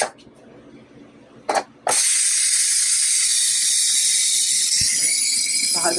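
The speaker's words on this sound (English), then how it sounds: "Now I'm going to let the steam out." Cooker releasing steam after cooking eggs: a few clicks, then a sudden loud, sustained hiss that holds steady for several seconds, close by.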